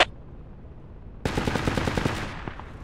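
Teammate's automatic rifle fire in the military shooter Project Reality: after a quiet stretch, a sudden loud, rapid burst of shots rattles on in a tight rhythm for over a second, then tails off with echo.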